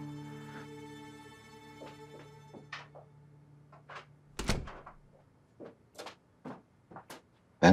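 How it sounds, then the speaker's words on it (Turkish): A door is pushed shut indoors with a single heavy thunk, followed by a few lighter knocks and bumps. A sustained tone fades out beforehand. "Kapıyı kapat be."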